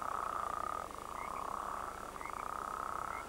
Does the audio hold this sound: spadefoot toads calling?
yes